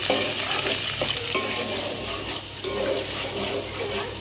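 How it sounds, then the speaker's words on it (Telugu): Green chillies fry in hot oil until browned for a Sunday chicken fry biryani, a steady close sizzle with occasional stirring scrapes throughout, no talking. "2 పచ్చిమిర్చిని అయితే తీసుకొని ఇది బ్రౌన్ కలర్లో వచ్చే వరకు ఫ్రై చేసుకుంటానండి."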